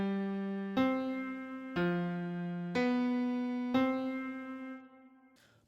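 Tenor line of a 3-6-2-5-1 chord progression in C moving in parallel fifths, five sustained notes of a tone with strong harmonics, each struck about a second apart and decaying, with no talking.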